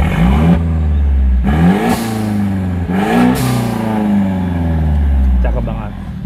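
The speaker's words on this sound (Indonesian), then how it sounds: "ini suara blow off-nya juga kedengeran nih" A turbocharged Mercedes C200 revs up repeatedly nearby, each climb ending with a whooshing release from the blow-off valve, while people talk excitedly over the engine.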